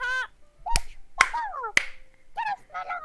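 Three sharp, isolated clapping or smacking hits, crisp and close, punctuating a stretch of squeaky, high-pitched vocal sounds during a livestream of a game.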